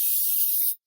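A single steady hiss of aerosol cooking spray onto a bowl, close and fairly loud, lasting under a second before cutting off abruptly.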